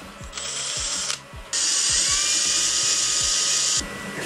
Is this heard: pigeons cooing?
no